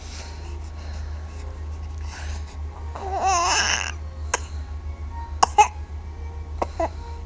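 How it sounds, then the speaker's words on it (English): A baby babbles and coos, then several short, sharp coughs break out near the end, close and fairly loud. "You were coughing."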